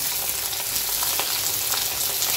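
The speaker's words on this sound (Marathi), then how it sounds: "2 कांदे कट करून घेतलेले ते आपण ह्याच्यामध्ये टाकून घ्यायचे।" Two chopped onions sautéing in a pan for an okra bhaji, giving a steady, close crackling sizzle with faint stirring throughout and no voices.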